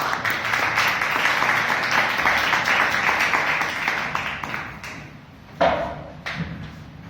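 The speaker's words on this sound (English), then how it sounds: "Please give him the applause" Audience applause at a Toastmasters club meeting, a steady round of clapping that fades out after several seconds, followed by a couple of louder knocks or thuds in a quieter room.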